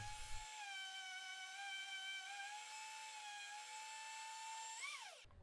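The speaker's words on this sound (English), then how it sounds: "I use a Dremel sander to get into the hard to get corners of the shield" A Dremel sander works a leather fire helmet shield, giving a steady high-pitched motor whine that holds for about five seconds, rises briefly in pitch and then cuts off, close and alone.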